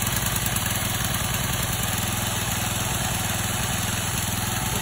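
A small engine fueled by biogas from a biodigester runs steadily at close range, a loud, even mechanical drone with a rapid chugging pulse and no talk over it.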